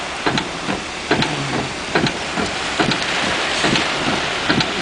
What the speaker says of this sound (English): We're just solid cell rain now.